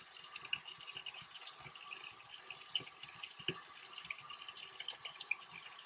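A steady hiss of running tap water flows as hands are rinsed under a sink faucet during a nursing-assistant skills demonstration, with small splashes and drips popping out over the constant broadband wash.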